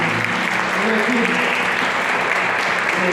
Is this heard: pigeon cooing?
no